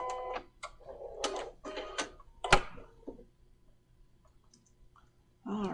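A domestic sewing machine stitching a fabric bunny basket bag in a quilting project, heard as close, rapid clicking bursts separated by pauses, then a final burst after a quiet stretch.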